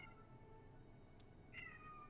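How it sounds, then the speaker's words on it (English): A hungry cat meows faintly in the distance, a couple of thin, drawn-out wavering cries over a steady low background hum. "Do you hear that hungry cat in the distance?"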